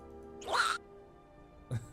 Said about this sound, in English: Donald Duck Yelp.